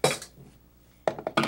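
Three eggs dropped into a frying pan on a cooking show, heard as two short bursts of clattering pan contact separated by a quiet gap, close and fairly loud with no talking.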